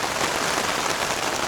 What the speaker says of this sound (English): just hope it stops raining tomorrow morning